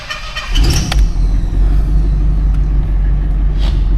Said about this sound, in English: we'll go ahead and get started on the test drive on the 81